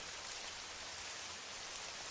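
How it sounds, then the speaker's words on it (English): Rain patters gently and continuously against a window pane on a rainy evening in Paris, a faint, soft, steady hiss heard alone without voices. "The faint sound of the rain tapping gently against the window pane"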